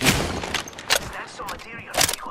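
Gunfire in the video game Apex Legends, a few loud sharp shots at irregular intervals, near and punchy, mixed with game noise and a voice talking.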